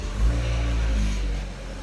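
Engine of a 2013 BMW X1 catches and settles into a steady low idle, heard close and fairly loud for a couple of seconds.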